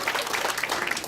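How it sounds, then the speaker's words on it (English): An entertainment event audience claps together, a dense, even patter of many hands at moderate volume, steady through the brief moment. "Everybody give these two a big round of applause."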